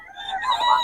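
A seven-month-old young rooster, a stag, gives a short, bright, close crow lasting under a second.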